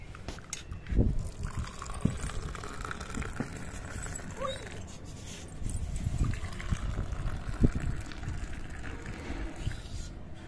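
Freshly boiled ginger cardamom tea is poured from a pan, giving soft intermittent trickling and splashing with a few light clinks of metal, close and fairly quiet.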